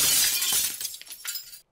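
Glass shatters loudly in a horror video game, a bright crashing burst followed by scattered tinkling fragments that trail off over about a second and a half, with no talking.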